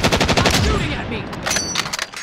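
Rapid gunfire bursts from the video game Call of Duty Warzone, a quick run of close, loud shots in the first second followed by scattered further shots and distant crackling.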